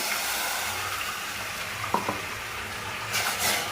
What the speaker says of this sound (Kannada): ಆಮೇಲೆ ಒಂದು ಗ್ಲಾಸ್ ನೀರು ಹಾಕೊಳ್ಳೋಣ